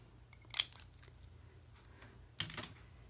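Scissors snip through twine twice, two crisp separate cuts about two seconds apart, close and fairly quiet in an otherwise still room.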